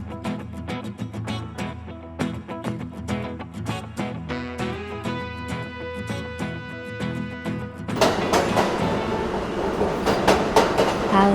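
A Seoul subway Line 8 train runs with a steady rumble and rhythmic clickety-clack of wheels on rail joints, close and continuous, growing louder and brighter partway through.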